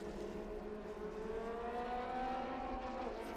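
Formula Ford, Formula B and Formula Junior race cars at Sonoma Raceway, engines droning and rising in pitch as they pass at a distance, a steady buzzing mechanical whine.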